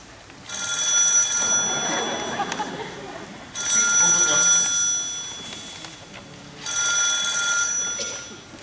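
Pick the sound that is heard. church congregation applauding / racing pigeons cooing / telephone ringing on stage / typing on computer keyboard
telephone ringing on stage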